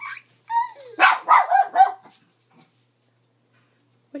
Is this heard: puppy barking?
yes